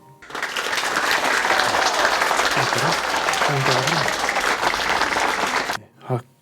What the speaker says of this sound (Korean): 이런 식으로 해서 박수도 넣어 놓을 수가 있는 거죠